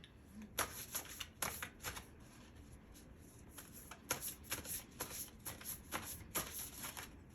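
A deck of oracle cards is shuffled by hand at close range in quiet bursts of riffling and slapping, each a second or less long, with short pauses between them.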